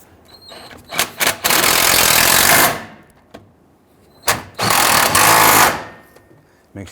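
A ratchet or power tool drives a bolt on a vapor canister being reinstalled in a 2007-2014 Cadillac Escalade 6.2L V8, with two loud buzzing bursts of about two seconds each, close up, preceded by short clicks.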